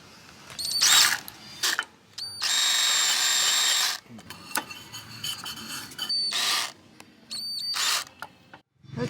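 A power drill with a regular bit grinds against a terracotta saucer in short, stop-start bursts, whirring and rattling up close with brief pauses between runs.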